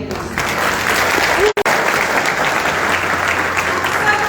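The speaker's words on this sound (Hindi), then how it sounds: "अपने लिए ताली बजाइए।" An audience claps for itself at the close of a training session, a steady wash of applause with one brief dropout partway through and faint voices mixed in.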